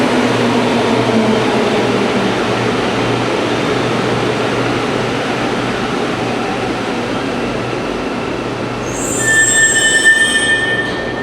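A rubber-tyred metro train in Santiago, Chile runs with a steady rolling rumble and hum, then a high metallic squeal rises near the end; no talking.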